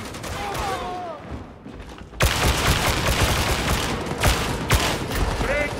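Rapid bursts of suppressing gunfire from a gunner enemy in Warhammer 40,000: Darktide, loud and dense, with sharp shot transients over a noisy combat din and brief voice calls mixed in.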